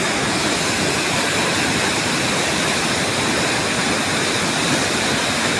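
The swollen Jaldhaka river, running high near Dashain, rushes in a loud, dense, continuous roar of fast water, steady from start to end with no voices.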